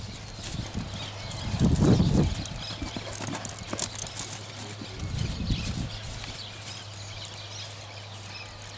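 A tobiano horse's hooves clop at a walking pace, with a couple of louder low thuds, over an outdoor background.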